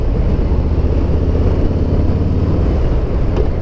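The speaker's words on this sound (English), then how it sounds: "It does downshift really well." Harley-Davidson M8 Street Bob motorcycle engine rumbling steadily as it downshifts, a continuous low throbbing drone close by with no talk.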